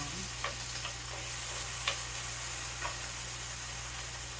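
Potatoes frying in a pan give a steady, even sizzle with faint crackles and a few soft pops and ticks, close and unbroken with no voices.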